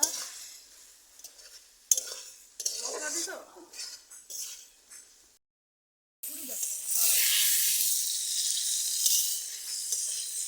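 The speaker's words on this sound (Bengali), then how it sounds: "এই যে আলু পটল রান্না হচ্ছে তার মধ্যে আবার টমেটো দিলাম অল্প" Potatoes, pointed gourd and tomato cooking in a pan, with sizzling, stirring and utensils clinking against the pan in short bursts, one brief silence, then a steadier, louder sizzle. Speech can be heard in places.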